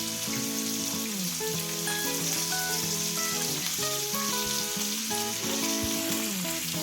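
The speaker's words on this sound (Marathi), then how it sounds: "मस्त पापलेट फ्राय होत आहेत" Pomfret fish, Agri-Koli style, sizzling steadily as it fries in a pan, a continuous close crackle with scattered pops and faint music-like tones running underneath, no voices.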